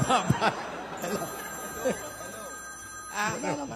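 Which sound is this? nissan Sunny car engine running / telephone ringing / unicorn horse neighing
telephone ringing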